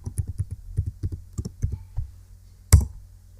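Command typed on a computer keyboard: a quick run of about a dozen light, close key clicks, then a pause and one sharper, louder keystroke, with no voices.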